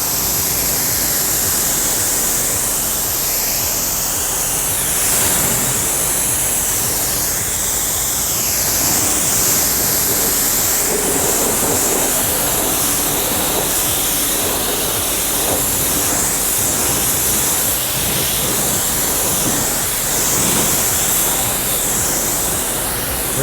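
Steady, close hiss of water spraying and rinsing soap suds off a car during a DIY detail wash, a dense broadband rush that runs continuously without pauses and with no voices.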